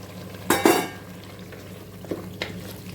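Tomatoes sautéing in a pan for mutton biryani: a low, steady sizzle under a couple of sharp metal scrapes and clinks of a spoon against the pan early on, then lighter taps.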